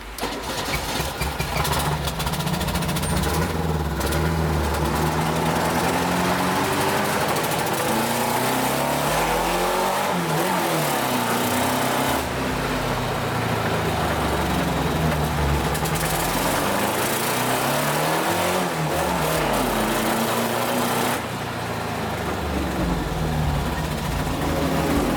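A VW Golf fitted with a Beetle engine and a 4-in-1 exhaust cranks and fires up, then revs and idles loudly with a raw, rumbling air-cooled note that rises and falls in repeated sweeps.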